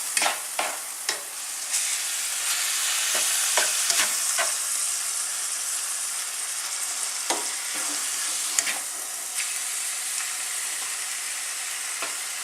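Beef for a homemade shepherd's pie fries in a pan, a bright, steady sizzle close by, punctuated by scattered scraping stirs and taps of the utensil.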